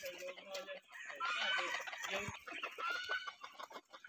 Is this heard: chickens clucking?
yes